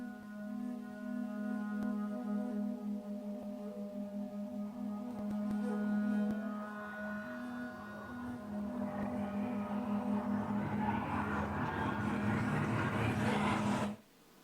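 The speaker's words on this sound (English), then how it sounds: "So we've got this kind of whispery soundscape thing." Whispery vocal soundscape textures built with Cubase plugins: a quiet, droning, spooky layer of sustained tones that swells into breathy, noisy washes before cutting off.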